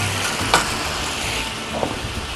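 Vegetables sizzling on a hot Blackstone flat-top griddle for Texas fajitas at a campsite, a steady close frying hiss with a couple of sharper crackles.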